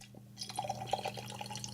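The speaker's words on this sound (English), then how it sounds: "I'm pouring a Pepsi into a Coke" Pepsi poured into a glass, a quiet trickle of liquid with small dripping, splashing and fizzing sounds that runs for under two seconds, faint and close.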